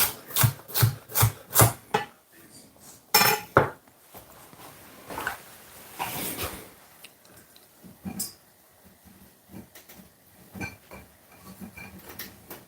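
A kitchen knife julienning peppers on a cutting board: a brisk run of sharp, evenly spaced chops, a pause, then a few more cuts and softer scraping and handling sounds, all close by.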